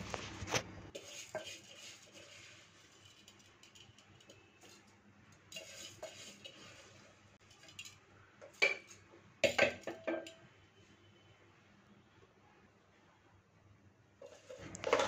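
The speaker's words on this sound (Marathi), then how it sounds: "मसाले व्यवस्थित शिजवून झाल्यावर यामध्ये तांदूळ ॲड करत आहे" Soaked rice is tipped into spiced oil in a pot for masale bhat and stirred with a metal spoon: scattered scrapes and clinks against the pan, a few sharp knocks, and quiet stirring between them.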